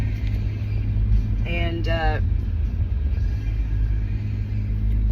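Truck engine rumbles steadily from inside the cab on the road while carrying a ram sheep to an emergency vet, a low continuous drone with brief talk over it.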